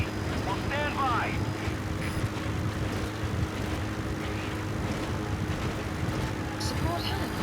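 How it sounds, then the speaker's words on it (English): A support helicopter in Metal Gear Solid V arrives at the landing zone, its steady engine and rotor drone filling the scene at constant loudness while a radio voice speaks over it. "Support helicopter has arrived."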